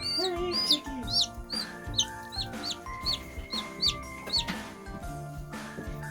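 Newly hatched chicks peep in rapid high, sharp bursts that repeat over a steady low background hum, fairly close and clear, with no talking.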